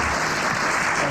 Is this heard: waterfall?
no